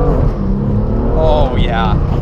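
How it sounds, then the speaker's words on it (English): BMW M2 with an aftermarket exhaust accelerating hard from inside the cabin, a loud, steady engine drone rising in pitch as revs climb, with a brief shift partway through and a voice over it. "Let's give a little acceleration run here."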